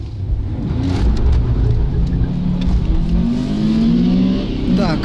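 Cars launch hard at a drag race start, a Honda Prelude among them, their engines revving loudly up through rising gear tones and a close roar, with someone talking over the noise.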